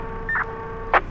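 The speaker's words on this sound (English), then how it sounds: "So I love this skid steer" Reversing beeps from a skid steer in Farming Simulator 22, with one short tone and a brief louder burst over a steady, low-level engine drone.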